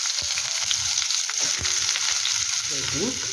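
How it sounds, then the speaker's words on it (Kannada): Chopped onions fry in ghee in a kadai, sizzling steadily and loudly, with a few sharp spatula scrapes and stirring clatters through the sizzle. "ಅದೇ ಕಡಾಯಿಗೆ ಸ್ವಲ್ಪ ತುಪ್ಪ ಹಾಕ್ತಾ ಇದ್ದಾನೆ ನೋಡಿ ಅದಕ್ಕೆ ಕಟ್ ಮಾಡಿಕೊಂಡ ಈರುಳ್ಳಿಯನ್ನು ಹಾಕ್ತಾ ಇದ್ದೀನಿ"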